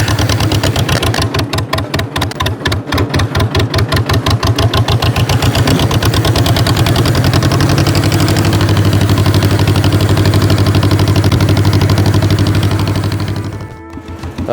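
An old 1949 John Deere tractor engine chugs loudly nearby in the cold, its rhythmic knocking slowing, then settling into a steady idle before cutting off near the end.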